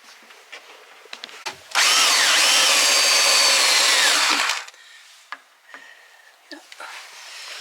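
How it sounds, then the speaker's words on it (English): A power drill countersinks screw holes in a wooden door board with a single loud, steady whirring burst lasting a few seconds, framed by quieter handling knocks before and after. "This is just countersinking these holes so that the screws won't be sticking out"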